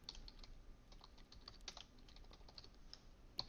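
Fingers tap steadily on a computer keyboard at a quiet desk, entering values into a form, with soft irregular clicks and a sharper key press near the end.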